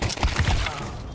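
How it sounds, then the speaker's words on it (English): A flashbang grenade detonates in the video game CS2, a short cracking, shattering burst with a few quick thuds that then fade into a quieter tail. "Deploying flashbang."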